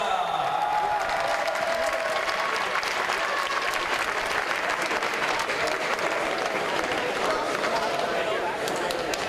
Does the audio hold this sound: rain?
no